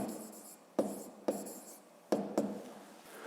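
A pen writes on paper during a fifth-grade maths lesson, giving a soft continuous scratch broken by four sharp taps as the pen strikes or lifts from the page, close and moderately quiet, with no talking.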